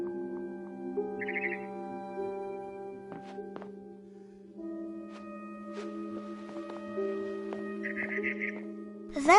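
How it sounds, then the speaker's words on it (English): A barn swallow chirps outside a window in the video game What Remains of Edith Finch, with two short, fluttering chirp bursts over sustained tonal background music. "Then I heard chirping outside my window. It was a barn swallow going back to her nest."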